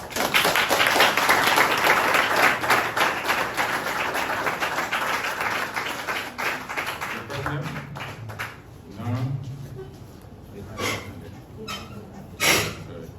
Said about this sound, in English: as we honor him with a resounding applause